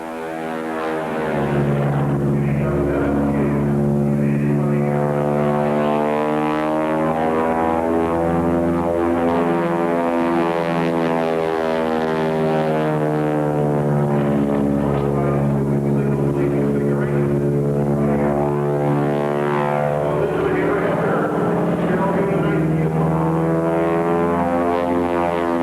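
A propeller airplane flies a wing-walking act at the 1993 Oshkosh airshow, its loud, steady droning engine hum swelling and easing slightly as it passes, continuous throughout.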